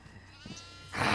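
A goat bleats faintly in the horror video game Devour, a short wavering call heard quietly before a sudden rush of broadband noise takes over at the end.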